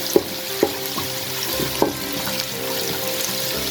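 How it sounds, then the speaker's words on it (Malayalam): Finely chopped small onions frying in a pan for chicken fried rice, a continuous sizzle with a few sharp spoon taps as they are stirred. "ചെറിയ ഉള്ളി ആഡ് ചെയ്യുക. നന്നായിട്ട് ഇളക്കി കൊടുക്കുക."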